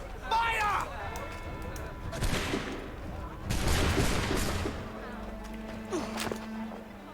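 Musket volley in the Assassin's Creed III video game: bursts of gunfire crackle together at close range, mixed with shouting voices and game sounds, with a second burst a moment later.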